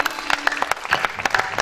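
An audience at a ceremony gives a short burst of applause, loose overlapping claps from a moderately sized crowd, fairly close and uneven in rhythm.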